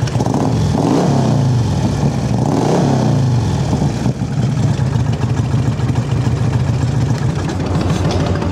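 A Fatbagger Razorback trike with a 6-speed transmission revs up close and loud, its engine rising and falling in two throttle blips before settling into a steady rumbling idle.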